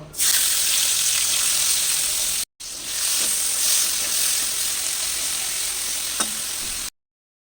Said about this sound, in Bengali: ওই তেলের মধ্যে আমি চিংড়ি মাছগুলোকে ভেজে নেব